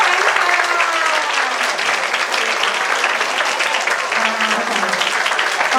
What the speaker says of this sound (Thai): ขอเสียงปรบมือดังๆอีกัครั้